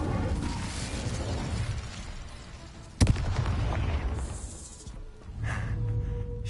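An Incendio fire spell blasts during the final battle of the Hogwarts Legacy video game: a dense, roaring rumble with one sharp, loud crack midway, then continued crackling and whooshing, with no talking.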